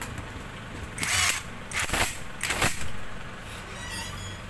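Screws being tightened during assembly of a Raider 150 motorcycle engine, heard as a few bursts of ratcheting and metallic clicking, close and moderately loud, with quiet pauses in between.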